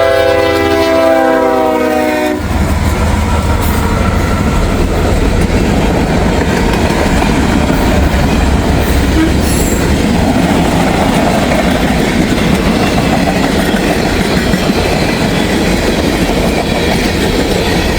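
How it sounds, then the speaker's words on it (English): A freight train with grain and barge cars passes close and loud, its horn sounding briefly at the start before a steady rumble and clatter of wagons rolling by. "Anyways, we got a train coming."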